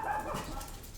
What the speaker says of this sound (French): Il m'énerve, ça chien. Pourquoi il aboie?